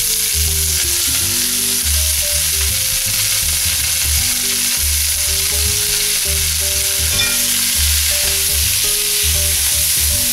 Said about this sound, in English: the next step is to saute off the onions and carrots in this same